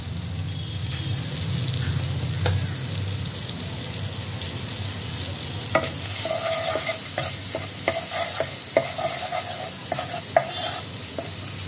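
Butter sizzles steadily in a hot kadai, joined by a series of light metallic clinks and scrapes from stirring, close and continuous.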